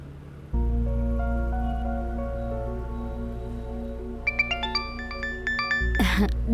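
A phone rings with a sustained electronic ringtone, a steady tonal melody that later adds higher chiming notes, fairly close and clear, with a brief rustle at the end.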